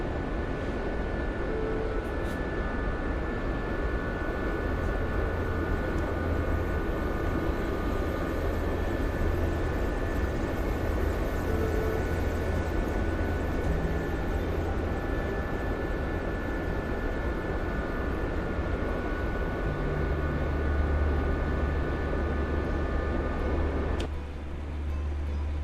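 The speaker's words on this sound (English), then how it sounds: "Oh, this is a long flight. Just flying across the open friggin' desert." A video game aircraft flies across open desert, its engine a steady, loud drone for the whole stretch with no talk.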